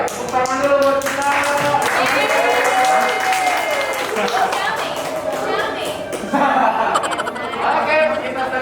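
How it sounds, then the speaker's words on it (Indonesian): A film crew claps and cheers on set, a dense burst of applause with chuckles and scattered voices running steadily throughout, loud and close. "Tepuk tangan dulu buat kita."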